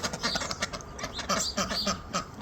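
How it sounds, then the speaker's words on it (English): Ducks quack in quick, close bursts amid a backyard flock of birds, the calls repeating rapidly and fairly softly throughout. "You hear ducks quacking."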